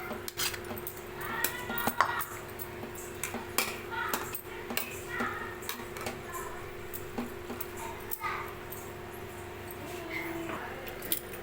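Cooked raw-mango mixture being stirred into rice for mango pulihora, with steady clinks and scrapes of a spoon against a vessel running throughout, close and moderately loud, with faint voices in the background.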